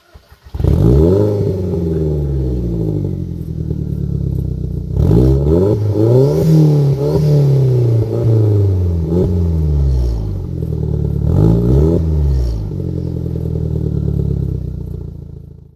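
Modified Seat Leon Cupra engine revving loudly nearby, with repeated throttle blips that rise and fall in pitch and a steady idle burble between them, and no talking over it.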